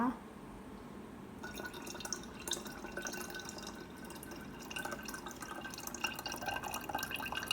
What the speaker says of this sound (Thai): นำมาเทใส่ในขวดน้ำ